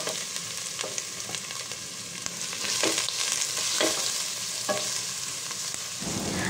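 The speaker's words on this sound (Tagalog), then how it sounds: "At iginisa-gisa ko lang yan hanggang sa lumabas yung aroma ng ating bawang." Onion and minced garlic, about six cloves, sautéing in hot oil, a steady close sizzle with occasional stirring scrapes and crackles throughout, no voices.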